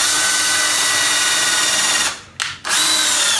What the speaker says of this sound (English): You put the screw in there with the bit and you just drill and go.